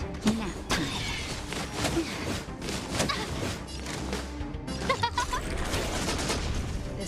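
Shots and impacts in Honkai Star Rail combat, with sharp repeated cracks, crashes and whooshes layered over game music and effects.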